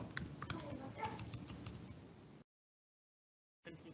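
Close, steady typing on a computer keyboard as a first name is entered, a dense run of quick key clicks that stops abruptly into silence, then resumes briefly at the end.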